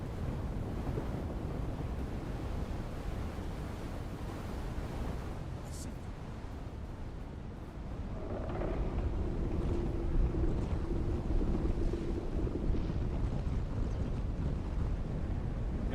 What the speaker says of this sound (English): look at that sandstorm!